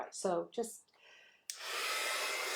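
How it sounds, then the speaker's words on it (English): A blow dryer switches on mid-clip and runs steadily to the end, loud and broadband, used to half-dry paint on an abstract painting; a person speaks briefly just before it starts. "I'm going to take my blow dryer and I'm going to go ahead and get this semi-dry."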